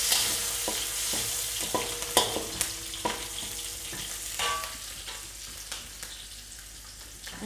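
Onions, curry leaves and green chillies tempering in hot oil with steady frying hiss, broken by intermittent stirring scrapes and clinks, close and fairly quiet, no voices.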